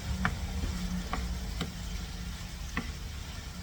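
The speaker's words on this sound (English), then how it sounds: "You have to keep stirring this until all the meat and the red rawness is gone" Ground meat stirring and frying in a pan for a tamale pie, a steady low sizzle under a few sharp utensil taps against the pan, close and alone without talk.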